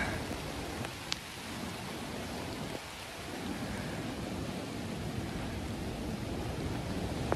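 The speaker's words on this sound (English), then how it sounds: "That is a rainstorm." A tropical rainstorm sweeps in over mangroves during Tropical Storm Fred, a steady, dense hiss of rain that stays loud and even throughout, with no voices.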